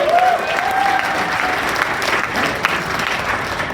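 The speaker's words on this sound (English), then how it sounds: "let's give a round of applause for that" An audience at a puppet slam breaks into steady, full applause, a dense wash of clapping that holds evenly throughout, with a faint whistle-like tone near the start.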